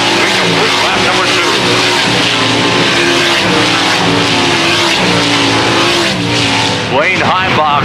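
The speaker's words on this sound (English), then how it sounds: "Wayne Heimbach rim riding around the 4/10 mile oval here at Susky in siron.com heat race number 1" Race cars lap a 4/10 mile dirt oval at Susquehanna during a heat race. Engines roar loud and continuous as the cars pass close by, under steady commentary from an announcer.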